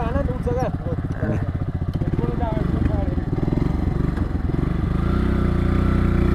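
An MVA motorcycle engine runs loud and close while riding, its throbbing exhaust pulsing steadily and rising slightly in pitch, with someone talking over it.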